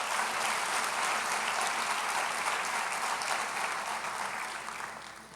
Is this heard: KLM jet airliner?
no